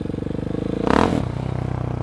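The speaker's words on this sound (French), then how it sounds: "Ah, la moto elle patine mais tout le temps." A motorcycle idles with a steady pulsing engine, then a brief throttle blip around the middle makes the rear wheel slip on a wet road in bad weather, with a short rising rev and scraping swell before settling back.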